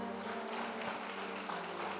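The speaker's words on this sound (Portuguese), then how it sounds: "As palmas para o Senhor." A church congregation claps together during a Portuguese-language worship service, a continuous wash of hands over sustained keyboard-like tones held underneath.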